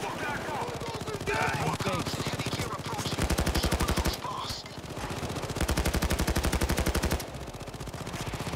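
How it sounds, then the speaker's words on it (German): Rapid automatic gunfire from Payday 2 pours at a Bulldozer enemy in sustained loud bursts across several seconds, dense and close, with game noise and chatter between volleys. "Ich schieße auf den Bulldozer."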